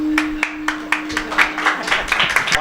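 Audience clapping at a Marathi kirtan gathering, a series of sharp claps growing denser and louder over a couple of seconds, with a steady tone fading beneath.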